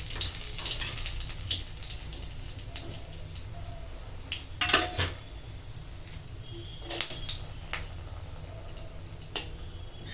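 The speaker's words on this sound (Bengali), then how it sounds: "শুকনো লঙ্কাটা ভালো করে ভাজি হলে ভালো লাগে সুন্দর একটা গন্ধ বেরোয়" Dried red chilies, split open, sizzling in hot oil in a home kitchen pan, a steady crackling hiss with scattered sharper pops and spits throughout, no talking.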